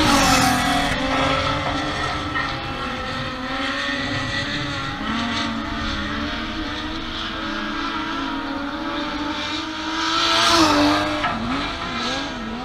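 Dirt track race cars roar around the oval in a dense, continuous pack, engines rising and falling as they pass, with a louder surge near the end and occasional tire scrub; no talking.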